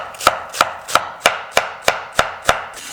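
A knife chopping onion on a board in a steady, even rhythm of about eight crisp, close strikes, with no voices.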